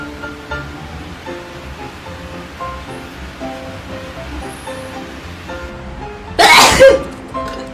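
A woman gives one sudden, loud sneeze near the end, brought on by a nasal swab test. It follows several seconds of soft, steady background noise.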